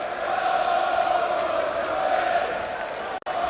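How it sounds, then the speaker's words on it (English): A boxing crowd in a Leeds arena sings together in a steady, sustained chant that fills the space without a break, with a brief dropout near the end. "Well, the crowd are singing, Nick, they're happy with it"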